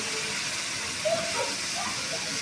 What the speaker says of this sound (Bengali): এবার এর মধ্যে দিয়ে দেবো আমাদের মশলা। এখানে আছে রসুন বাটা, পেঁয়াজ বাটা, সরিষা বাটা এবং শুকনো মরিচ বাটা।